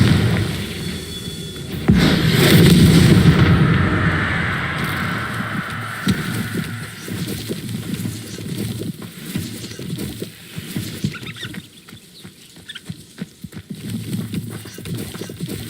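A Confringo fire spell in Hogwarts Legacy sets off a loud booming explosion that rumbles and fades over several seconds, followed by softer game effects.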